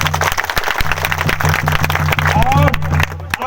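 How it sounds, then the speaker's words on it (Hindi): An indoor audience claps loudly together in dense, continuous applause, with a low steady hum underneath and a voice speaking over the crowd. "सबके लिए तालियां बजाओ"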